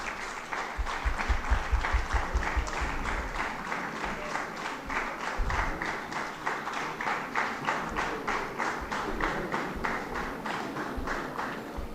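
A crowd claps at an NLC India Vigilance Awareness Week valedictory awards function, rhythmic, synchronized applause with a steady beat, moderately near and sustained for the whole stretch.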